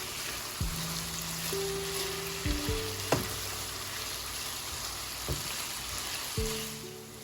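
Beef and garlic frying in a stir-fry pan, a steady close sizzle with occasional clinks and scrapes of a utensil against the pan, no voices.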